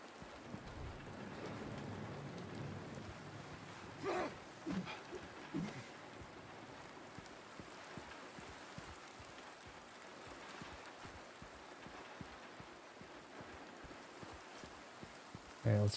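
Rain falls in the Silent Hill 2 Remake video game as a faint, steady patter. A few brief louder knocks and thuds rise above it, and the sound stays low-level for the whole stretch.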